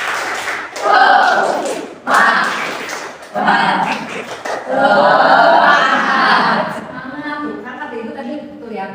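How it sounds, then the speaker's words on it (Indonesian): A group performs a tepuk semangat spirit clap, loud rhythmic bursts of clapping mixed with chanted voices in several short phrases, ending in a sustained vocal tail. "coba tepuk semangat"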